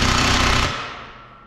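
A 1/2-inch impact wrench hammers loudly at a bolt on a Case 490 disk gang, a steady rattling burst for under a second before trailing off into a fading ring.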